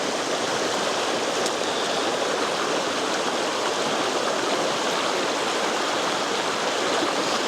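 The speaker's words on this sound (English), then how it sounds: "more moving water. You can hear it this time." Moving water of a stream rushing in a steady, even hiss, fairly close and continuous, with no voices or other sounds on top.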